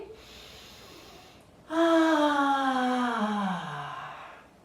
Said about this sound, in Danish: Og vi slutter med dybt åndedræt. Indånding.